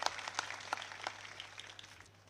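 Applause from a crowd at a Thakor community gathering in Banaskantha, a soft, steady patter of many hands that fades slightly toward the end, with a low hum underneath.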